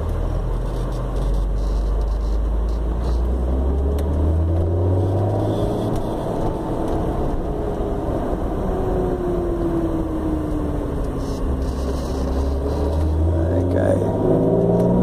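A car fitted with an RHD Engineering ITB intake, a light flywheel and an EcuMaster EMU pulls away in second gear. A loud, close engine drone rises and falls steadily through the acceleration.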